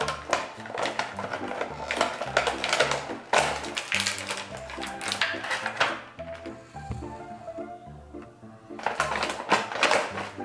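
Power Rangers action figures get ripped free of their plastic and cardboard packaging, a burst of close, loud crackling, tearing and clattering with a brief quieter lull before more rustling.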